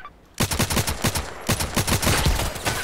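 Enemy automatic gunfire in Contract Wars on the Terminal 2 map rattles out in fast, loud, close bursts after a brief quiet start, with a short gap before a second sustained burst.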